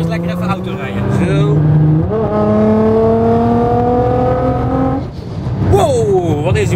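A fast car accelerates hard through its gears, the engine tone climbing in steady sweeps and then dropping at a shift, loud and close from inside the cabin, with someone talking over it now and then.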